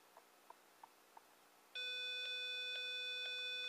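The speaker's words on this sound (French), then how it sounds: "Et donc le seul moyen d'arrêter la sonnerie, c'est de rappuyer sur le bouton." An Arduino-built countdown timer reaching zero: a few faint soft ticks, then a loud sustained electronic alarm tone that starts abruptly and keeps ringing with a slight pulsing.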